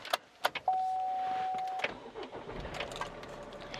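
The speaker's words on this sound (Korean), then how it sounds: "그리고 시동 한번 걸어보도록 할게요" A Chevrolet Trax engine cranks and catches, with a brief whine and clicks before settling into a low idle, heard close up.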